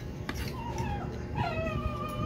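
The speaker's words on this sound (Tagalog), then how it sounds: "maririnig niyo yung background ko na aso guys kasi yun yung bago kong nakuha na aso" A newly acquired dog whimpers in the background, giving high, wavering whines and thin yips over a steady low hum, fairly close and continuous.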